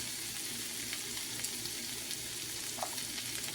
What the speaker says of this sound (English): 5 stalks of celery and 2 big onions. So I'm going to start frying that.